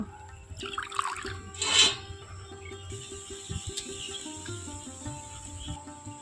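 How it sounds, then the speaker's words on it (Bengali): Water is poured into a bowl of rinsed, cut potatoes being prepared for Bengali fried shredded potatoes. A short splashing pour lasts about a second over a quiet kitchen background with a faint steady hum. "এখন আবারও ওই গামলাতে জল নিয়ে নিচ্ছি।"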